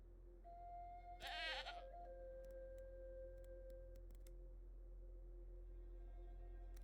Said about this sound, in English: Alright, so now we got a goat.